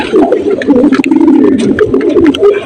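Pigeons just bathed on a hot day coo close by, a loud, overlapping, throaty warble that runs almost without pause, with a few sharper rustles and taps in the background.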